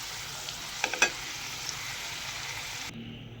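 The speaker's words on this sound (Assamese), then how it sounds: "এতিয়া আলুটো অকণমান ফ্ৰাই কৰি লওঁ" Potatoes frying in a pan, a soft continuous sizzle with a few clinks of stirring near the start, close but fairly quiet, ending in an abrupt drop to near silence.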